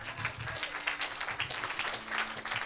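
A church congregation applauds for Jesus, a dense steady clapping from a sizable crowd with some scattered voices mixed into the room.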